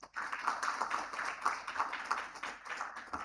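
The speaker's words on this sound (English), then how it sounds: "Please give a big, big round of applause as we welcome" Applause from a conference audience at the e4m OOH Conference welcoming a speaker, a continuous wash of many hands clapping with a few distinct nearby claps standing out, sustained throughout.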